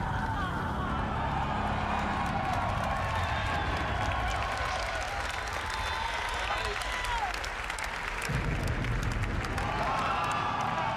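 The crowd at the Sony PlayStation E3 2018 conference gives loud, sustained applause and cheering that fills the whole stretch, with a swell of clapping near the end and no clear single voice.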